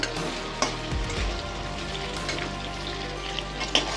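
Paneer frying lightly in oil in a pan gives a steady close sizzle, with a few sharper pops and clinks of a utensil scattered through it.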